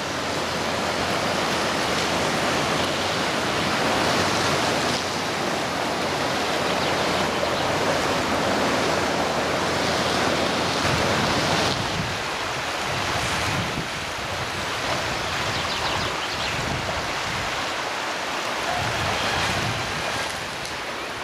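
Floodwater streaming across a road in Williton, West Somerset, after heavy rain runs off the fields, a steady loud rushing wash with gusts of wind buffeting the microphone and no voices.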